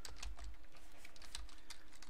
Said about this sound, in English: And I'm going to type sudo